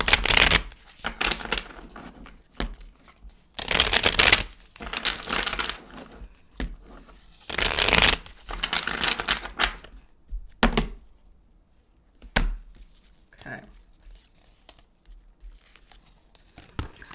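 Tarot cards are shuffled in several loud, riffling bursts, then single cards are pulled with sharp slaps and soft slides into quieter stretches, with no talking.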